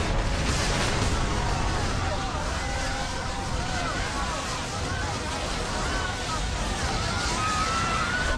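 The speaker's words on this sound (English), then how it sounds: "Something exploded." A dramatised explosion aboard the Japan Airlines Flight 123 jumbo jet gives way to a sustained roar of rushing air and turbulent noise that stays loud and dense throughout, with a murmur of voices mixed underneath.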